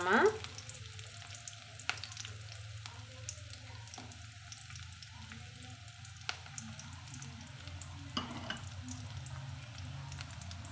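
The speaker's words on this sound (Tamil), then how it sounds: "நம்மளுக்கு இது பொன்னிறமாக வதங்கி வரட்டுங்க." Thinly sliced small onions (shallots) fry in a pan until golden, giving a steady crackling sizzle with occasional stirring scrapes and clicks, close and moderately loud, with no talking.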